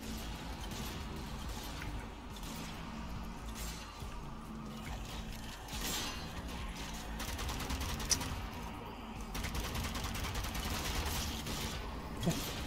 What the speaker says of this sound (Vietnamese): Súng mình bắn được mỗi tí lại cứ phải nạp đạn khó chịu.